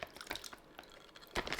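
Salmon marinade poured into a Ziploc bag, soft close dribbling and splashing with small wet drips and a brief louder gush at the end, quiet and without speech.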